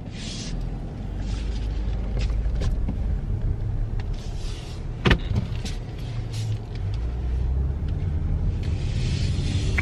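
A 2021 Lexus ES350 backs out, heard as a steady, fairly loud low engine and road rumble throughout, with a single brief knock partway through.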